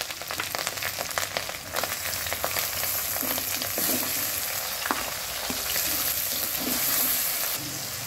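Masala of ginger garlic paste, curry leaves and tomato sizzles and crackles in hot oil for sambar, with irregular stirring scrapes and pops over a continuous frying hiss, fairly close.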